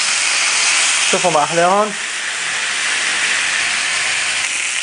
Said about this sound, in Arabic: هلا بدنا نقلبهم على الجهة الثانية نحمرهم دقيقتين على كل جهة